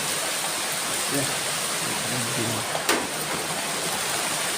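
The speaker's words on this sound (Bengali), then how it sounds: "অঝরে বৃষ্টি হয়ে যাচ্ছে" Steady rain pours down in a continuous wash of hiss, with faint voices murmuring briefly underneath and a small sharp knock near the end.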